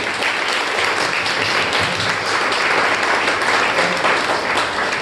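Audience members at a Toastmasters demo meeting break into applause, a thick, even wash of clapping that stays loud and constant throughout with a faint murmur of crowd underneath.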